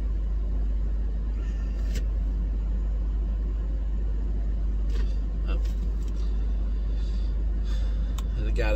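A scrap collector's vehicle drives past outdoors, a continuous heavy low rumble that holds steady throughout with a few faint clanks, and no one talks over it.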